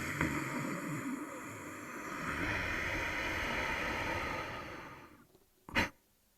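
A long, deep breath drawn in during a breathwork demonstration, a steady airy rush lasting several seconds before trailing off, then a brief sharp puff near the end.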